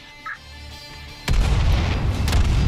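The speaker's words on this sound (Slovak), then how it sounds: "Tak a krásne za to pozrieme, ako to vybuchne teraz." After a quiet lead-in with faint background tones, a sudden loud explosion booms in and its deep rumble rolls on, heavy and close, to the end.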